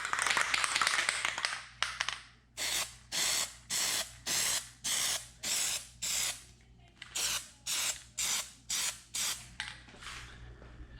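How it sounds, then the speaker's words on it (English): Plasti Dip sprays from an aerosol can in a rapid series of short, evenly spaced hissing bursts, about fifteen in a row after a longer opening spray, close and crisp with brief silences between. "Get one extra spray on the top."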